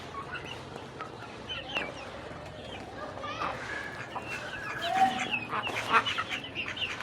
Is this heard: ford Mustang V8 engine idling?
no